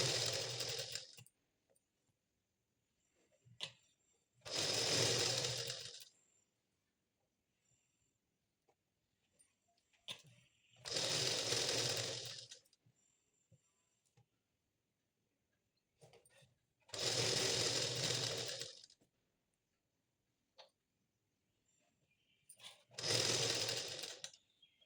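A sewing machine stitches plain blouse pieces together in five separate bursts of loud close whirring, each a second or two long, with quiet pauses between and no speech.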